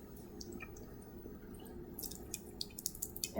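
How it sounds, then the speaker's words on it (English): Water rinses through a laboratory burette into a sink, starting as faint, scattered drips and building into louder, irregular splashes and trickles toward the end, with no talking. "I'm going to rinse the burette into the sink"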